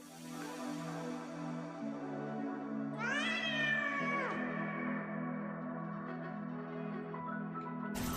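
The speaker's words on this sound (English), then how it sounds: "Oh my god, look at all the cats run around!" Cats meowing in a Web3 mech video game, one clear rising and falling meow standing out over a steady droning game soundtrack.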